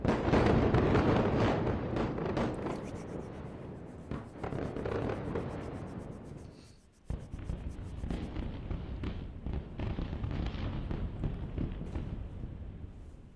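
Aftermath of an explosion in Beirut during an Israeli attack: a loud, rumbling roar that slowly fades, then a sudden sharp burst followed by a lingering noisy wash of distant rumble.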